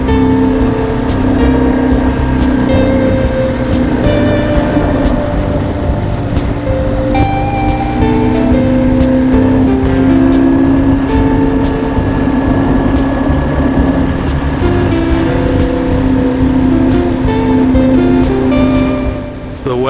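A BMW R1150R roadster motorcycle cruising a road on an autumn ride in Idaho, its steady engine drone and wind rush holding constant and loud throughout without a break.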